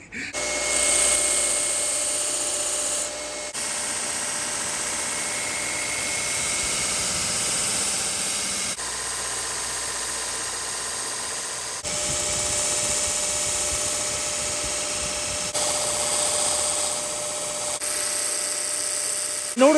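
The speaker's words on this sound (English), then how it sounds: "In order to make this little blade a little bit more versatile and possibly more useful, we're going to chisel grind that right there." A power grinder cuts a chisel grind onto a small bush-chisel blade, a continuous loud abrasive whine with brief pauses and shifts in pitch and pressure as the steel is worked.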